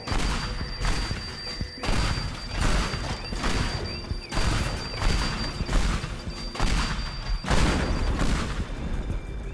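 Pipe bombs blow apart a base in Teardown, producing a steady series of loud, evenly spaced explosive booms with crashing debris between them, roughly one blast every second.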